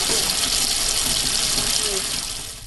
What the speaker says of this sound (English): gas just aerating out of there